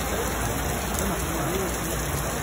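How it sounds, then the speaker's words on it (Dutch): Heavy rain pours down steadily in France, a dense, continuous hiss of falling water that stays loud and unbroken throughout. "En dan regent het wel gelijk goed"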